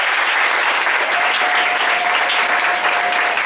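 A church congregation applauds in praise at a prophet's service, steady dense clapping that fills the space throughout, loud and close, with a faint voice over it.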